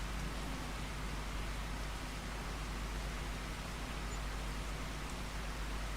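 Steady rain falling in Farming Simulator 25, a dense, even hiss with a low rumble underneath, continuous and unbroken for the whole stretch with no voices.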